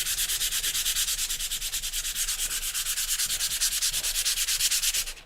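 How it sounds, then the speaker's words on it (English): A sanding disc rubs steadily over a surface to distress it, a loud, close, continuous rasping scrape with an even back-and-forth pulse lasting throughout, no voices. "I'm going to use one of these sanding discs"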